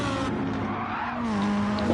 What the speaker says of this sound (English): Oh, your tire screech.